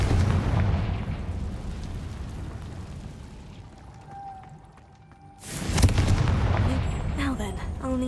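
A Confringo fire spell bursts in Hogwarts Legacy, a loud broadband blast at the start that rumbles on, then a second heavy boom erupts near the end with voices shouting over it.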